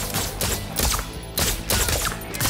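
Gunfire in the first-person shooter Deathloop comes as repeated bursts of loud, dense shots in quick clusters, with short gaps between volleys and no talk over them.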